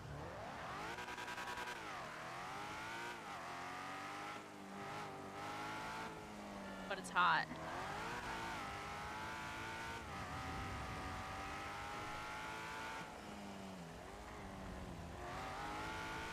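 A video game car engine hums and revs continuously at low volume, its pitch sweeping up and down as the car drives through rain, with a brief sharp skid partway through and a voice speaking over it.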